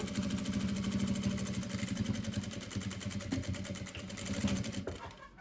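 A sewing machine runs a straight seam at a fast, even pace, its needle mechanism producing a rapid rhythmic whirring, close and steady before stopping at the end.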